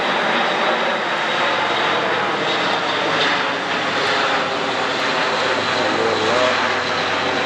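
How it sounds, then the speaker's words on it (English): Propeller transport aircraft drone steadily overhead while dropping paratroopers at a D-Day 80th anniversary commemoration in Normandy, a continuous loud engine roar filling the scene with a brief spoken remark over it. "It's the aircraft, and there are all the paratroopers coming down."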